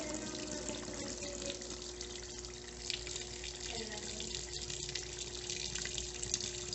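An Electrolux Turbo Economia 9 kg LTE09 washing machine fills with water for its rinse cycle, a steady, close rush of running water with a faint mechanical hum beneath.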